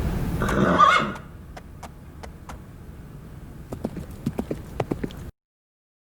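In the video game Nikki, a horse neighs loudly at the start, then hooves clip-clop in sparse, distinct steps that quicken into a brisker run before cutting off abruptly.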